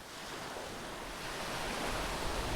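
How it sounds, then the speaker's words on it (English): High Mediterranean Sea waves on Egypt's North Coast roar as a continuous, dense rush of surf that builds slightly in loudness over a couple of seconds, with no voices. "The waves were crazy high"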